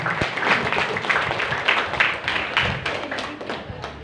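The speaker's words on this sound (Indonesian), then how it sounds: "Aplaus, tepuk tangan untuk kalian." An audience at an Islamic boarding school scientific seminar claps steadily, dense applause holding for several seconds and tapering slightly at the end, close and fairly loud.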